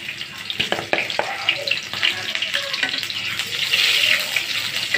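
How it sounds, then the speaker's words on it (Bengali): Onion and garlic fry in a pan alongside dried chillies, giving a steady, close crackling sizzle that runs without a break, with a few light utensil knocks near the start and no talking. "পেঁয়াজ রসুনগুলো ভালো করে লাল করে ভেজে নিই।"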